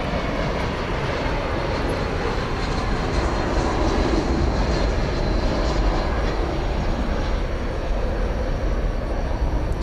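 An American Airlines Airbus A321 arriving from Boston comes in to land at DFW Airport at night, a loud, steady, broadband jet roar sustained throughout without let-up.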